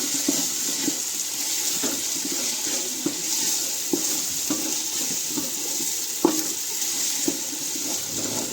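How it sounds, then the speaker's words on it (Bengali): Ginger garlic paste frying in a pan after browned onions, a steady hiss like running water with regular soft scraping stirs and occasional pops. "আদা রসুনটাও ভালোভাবে ভেজে নেব"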